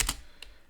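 A few quick keystrokes on a computer keyboard while entering an SSH command, close and brief, with two clustered clicks and then one more tap.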